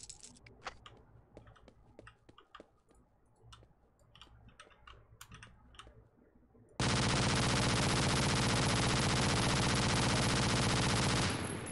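Gunfire in Half-Life 2, a run of quick sharp shots and clicks near at hand, then a sudden loud continuous roar of sustained fire that fills the second half.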